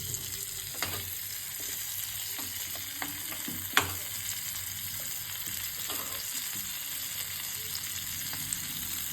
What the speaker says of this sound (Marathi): आता आपण फ्राय करतोय त्यामुळे रवा फ्राय करतोय, त्यामुळे आपण आता शालो फ्राय केला आहे